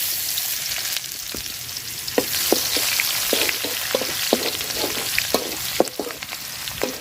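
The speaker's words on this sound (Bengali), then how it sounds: "পেঁয়াজটা লাল লাল করে ভাজা নিছি," Chopped onions fry in hot oil after fish in a pan, a dense steady sizzle broken by repeated sharp scrapes and taps of a stirring spoon.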